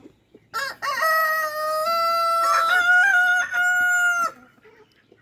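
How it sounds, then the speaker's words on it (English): A farm rooster crows loudly and close, one long drawn-out cock-a-doodle-doo rising and holding before cutting off, with faint farmyard sounds around it. "And then the chickens are just hanging out."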